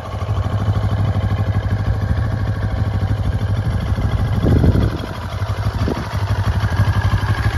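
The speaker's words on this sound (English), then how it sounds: "We'll give her some revs." A close 2022 CFMoto 700 CL-X Sport parallel-twin motorcycle idles with a steady, throbbing note. A short blip of revs swells midway, followed by a smaller second one, before it settles back to idle. No voices.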